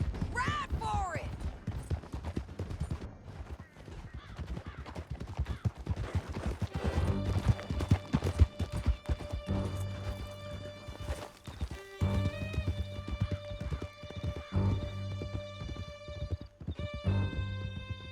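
Horses galloping and neighing in the video game Red Dead Redemption 2, a dense rolling clatter of hooves with whinnies near the start, continuous under a tense musical score and shouted voices.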